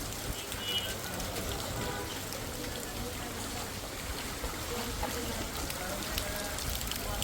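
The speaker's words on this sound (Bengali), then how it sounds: "বিশেষ করে এত বৃষ্টির মধ্যে।" Heavy rain pours down in Savar, a dense steady hiss of falling water and splashing on surfaces throughout, with a voice talking over it.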